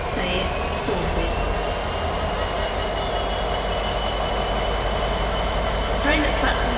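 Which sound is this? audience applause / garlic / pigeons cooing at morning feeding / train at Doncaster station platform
train at Doncaster station platform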